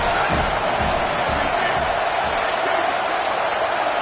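A stadium crowd at a football game roars steadily and loudly, with low thumps early on beneath the sustained noise.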